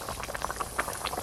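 Raw hilsa fish curry bubbling gently on low heat in an open pan, soft irregular blips and pops, close and quiet, with no voices.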